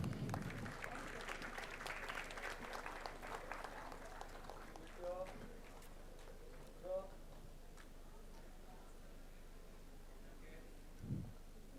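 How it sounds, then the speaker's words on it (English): An audience at a law college annual day claps for a prize winner. The applause is brief and faint, rises early, then fades into quiet room noise with a few scattered thumps. "A round of claps."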